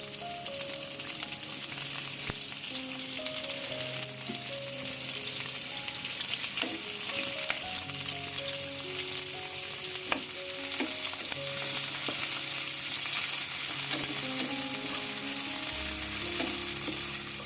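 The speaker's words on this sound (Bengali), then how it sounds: "এই পেঁয়াজ আর কাঁচা মরিচটাকে আমি 2 থেকে 3 মিনিট একটু ফ্রাই করে নিচ্ছি" Chopped onions and green chillies fry in a pan for a Bengali cauliflower dish, giving a steady, close sizzle with occasional stirring scrapes throughout, no voices.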